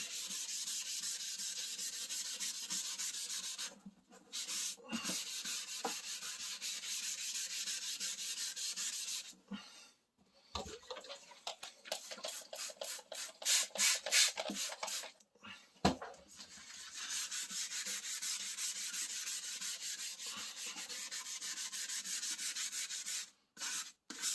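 Wet sandpaper rubbed back and forth by hand over a plastic car headlight lens, a steady close scratchy rasp in long strokes broken by brief pauses and a stretch of quicker short rubs, with no talking.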